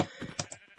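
Several short sheep bleats from the Minecraft video game sound in quick succession. They are quiet and stand alone with no talking.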